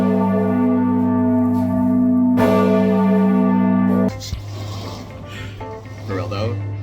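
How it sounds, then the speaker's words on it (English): A large church bell at Brunelleschi's dome in Florence tolls with a deep, sustained humming ring, struck again midway, then fades as the ringing gives way to crowd noise and voices. "when the bell was ringing, you could feel like the vibrations in your entire body"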